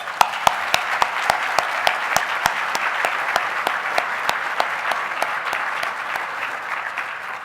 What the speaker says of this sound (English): Now let's give them a thunderous round of applause